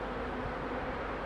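Honey bees buzzing at a beehive make a steady, low, droning hum that holds unchanged through the brief moment.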